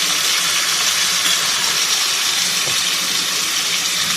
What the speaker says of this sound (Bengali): এখানে ওপর নিচ করে ঢাকনা দিয়ে এটাকে ভেজে নিতে হবে।